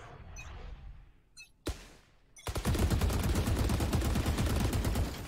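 Rapid automatic gunfire sprays in the Valorant shooter game, a loud continuous burst of evenly spaced shots after a couple of isolated sharp cracks.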